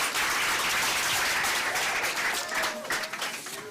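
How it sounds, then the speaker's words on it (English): Audience applause at a congressional briefing on food waste and food insecurity, a dense steady wash of clapping that thins slightly toward the end while a voice speaks over it. "Another round of applause for them"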